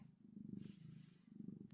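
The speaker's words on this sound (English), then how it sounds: "Just my buddy Rorschach purring up a storm" Cat purring close up, a soft low rumbling in two gentle waves over a couple of seconds, quiet and alone.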